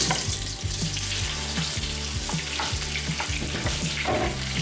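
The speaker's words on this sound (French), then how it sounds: "on va faire frire nos morceaux d'aubergines." Aubergine pieces fry in hot oil in a pan, giving a steady, loud, close sizzle with continuous crackling throughout and no voices.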